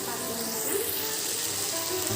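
A continuous, even sizzle of onions frying in a pan on a home stove, close and steady with no break.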